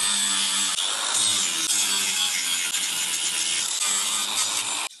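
A JCB bench grinder runs with a continuous, fairly quiet mechanical whir and light rattling, heard close and alone before it cuts off abruptly at the end.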